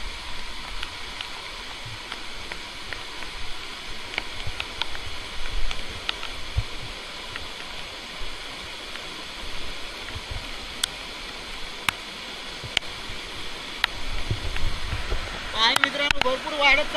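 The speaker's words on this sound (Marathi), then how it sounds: "पाणी मित्रांनो भरपूर वाढत चाललंय आता वाळीला" Swollen stream water rushes steadily and close by in a rocky Konkan village creek during crab catching. The broad, continuous roar grows louder toward the end, with scattered splashes and clatters.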